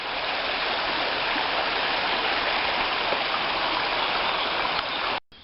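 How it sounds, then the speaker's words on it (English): Mountain stream in Wales pouring steadily into a pool, a constant close hiss of rushing water that cuts off abruptly near the end. "A little sort of stream going off up here, and it flows underneath some kind of"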